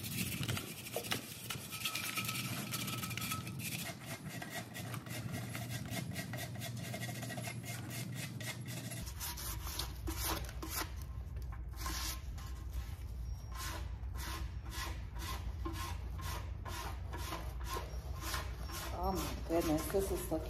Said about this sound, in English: So I'm gonna sand this for tonight